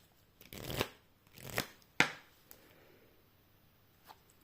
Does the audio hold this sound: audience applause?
no